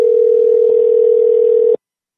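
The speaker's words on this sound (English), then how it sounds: "He is calling Stellar Motors right now to raise hell." A steady telephone dial tone while a call to a car dealership is placed, a single continuous clean hum that cuts off abruptly after under two seconds.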